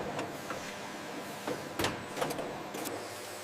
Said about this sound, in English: The caps are then tightened under vacuum to seal the jar.